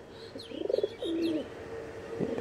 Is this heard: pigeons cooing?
yes